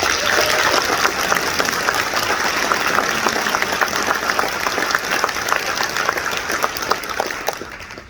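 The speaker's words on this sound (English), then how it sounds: "Can I get an applause for that, please?" Audience applause fills a conference hall at the 2023 National CERT Conference in San Francisco, a dense, steady wash of many hands clapping at once that stays loud throughout before easing off at the very end.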